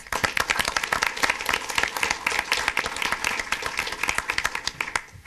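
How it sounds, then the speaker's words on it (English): A room full of people applauds at a city council meeting, honouring Canadian neighbours. Dense, steady clapping runs throughout at close range and stops abruptly near the end. "And I'd like a round of applause for our Canadian neighbors."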